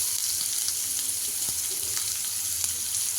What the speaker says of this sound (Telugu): ఇప్పుడు ఇవన్నీ వేగనిద్దాం.